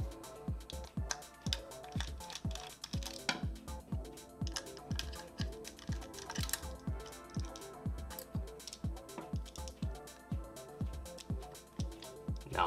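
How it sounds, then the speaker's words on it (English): Screws being backed out of a PS4 hard drive tray with a screwdriver, heard as a close, quiet run of steady rhythmic clicks and ticks repeating about twice per second. "we're going to go ahead and remove these 4 screws here"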